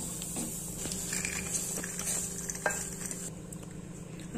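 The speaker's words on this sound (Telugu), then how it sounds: "సిమ్లో పెట్టుకొని ఫ్రై చేసుకోవాలి." Dry fruits frying in a pan for sugarless Diwali laddoos, with a soft steady sizzle and occasional clinks and scrapes of a spoon stirring against the pan.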